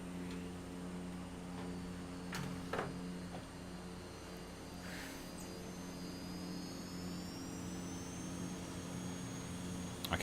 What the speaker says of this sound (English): I can hear a jet plane of some description.